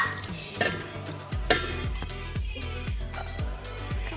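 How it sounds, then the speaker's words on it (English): Cooked shrimp tumble into a cooking mixture and get stirred in a pan, giving a soft sizzle under repeated close scraping and clinking strokes at a steady rhythm, with no talk. "you want to just dump in your cooked shrimp into the mixture"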